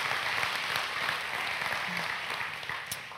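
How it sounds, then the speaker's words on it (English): Church congregation giving a round of applause, a full, even burst of clapping that fills the room and eases slightly as it goes on. "can you guys help me in giving yourselves a big round of applause?"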